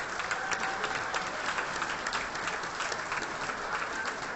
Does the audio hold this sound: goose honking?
no